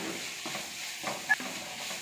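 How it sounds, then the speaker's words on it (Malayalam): Onion, garlic, green chili and ginger sautéing in a pan, a soft low sizzle with a few quiet scraping stirs and one brief clink, fairly faint and without speech. "നമ്മുടെ സവാളയും വെളുത്തുള്ളി, പച്ചമുളക്, ഇഞ്ചി ഒക്കെ നന്നായിട്ട് വഴന്നു വന്നിട്ടുണ്ട്"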